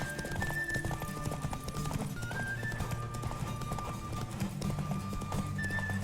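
Steady clip-clop of horse hooves over a busy soundtrack from the video game The Witcher 3: Wild Hunt, with a horse whinnying partway through.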